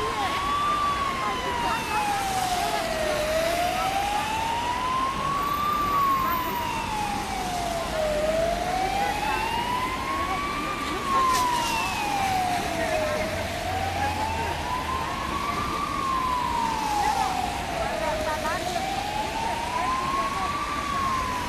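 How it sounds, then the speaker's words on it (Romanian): A protesters' alarm siren that sounds like a fire engine siren, wailing up and down in a steady slow cycle of rising and falling sweeps. It stays loud and continuous at a street protest for better education funding. "Sirena pompierilor e ca și alarma asta de la protestatari."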